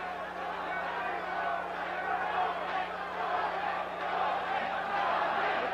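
Boxing arena crowd at the 1984 Wilfredo Gomez vs Azumah Nelson fight, a steady roar of cheering voices that swells and holds throughout, loud and dense with a constant low hum underneath.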